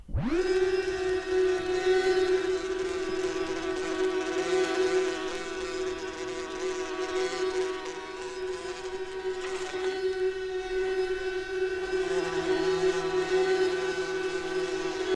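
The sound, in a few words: giant killer bees from 1982 sound effects vinyl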